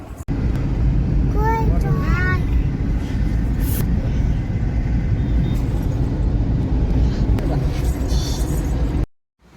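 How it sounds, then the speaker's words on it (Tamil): Steady low rumble of a car on the road toward the Sriperumbudur chariot festival, heard from inside the cabin, continuous and fairly loud with brief chirpy voices and sounds early on. "காரில் இப்போ தான் போயிட்டுருக்கோம்"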